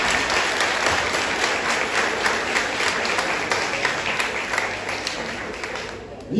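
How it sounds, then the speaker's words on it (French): Applause from a graduation ceremony audience, a dense steady wash of many hands clapping that carries on without break for several seconds, loud and close, tapering slightly at the end. "Applaudissements."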